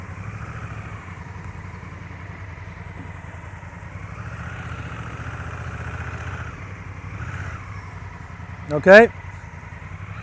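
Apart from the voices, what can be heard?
motorcycle without a clutch ridden in a riding lesson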